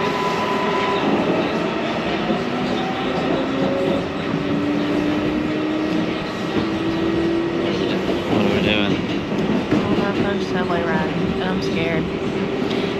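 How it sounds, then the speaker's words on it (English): A New York subway train at Bowling Green station, loud and continuous, with rumbling wheels, rising motor whine and squealing tones throughout, while people talk over the din. "we are about to get on the subway"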